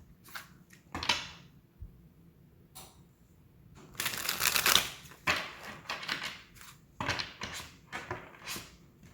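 Tarot oracle cards are shuffled by hand in irregular bursts of crisp riffling and slapping, close and fairly loud, separated by short quiet gaps.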